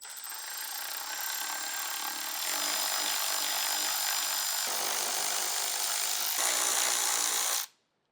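A power tool removing 10mm bolts from the grille of a 2024 Toyota Tacoma, one continuous close whirring run with slight shifts in pitch that stops abruptly at the end.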